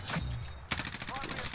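Sustained rapid gunfire hammers at a helicopter in a video game, a fast, even rhythm of close shots that kicks in sharply partway through, with a steady engine drone underneath.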